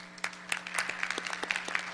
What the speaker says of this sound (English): If everyone give them a round of applause, please.